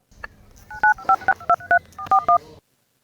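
A phone is dialed: about nine quick, loud DTMF keypad tones beep in an irregular run, close and clear, with no ringing heard afterward.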